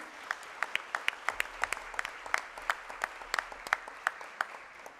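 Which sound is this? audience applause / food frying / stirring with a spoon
audience applause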